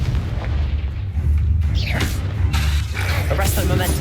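Repeated booming blasts from the Confringo fire spell in Hogwarts Legacy, loud and continuous over a rumbling low background, with crackling bursts and swooshes between them.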